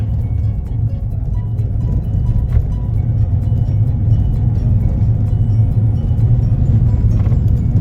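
A car on a driving test route in Ayr makes a steady, loud, low engine and road-noise rumble from inside the cabin, continuous for several seconds with no breaks.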